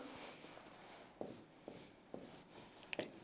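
Handwriting an equation, soft scratchy strokes of pen or marker with faint squeaky taps, close but quiet, in a few short bursts.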